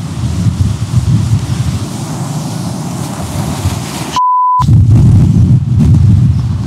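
Heavy, constant coastal wind roaring and buffeting the microphone outdoors, loud and low, with a brief dropout partway through.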